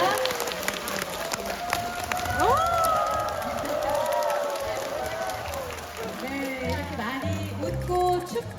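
An audience of elderly people applauds a singer after her performance, with clapping and cheering under music and a host's voice, sustained and fairly loud throughout.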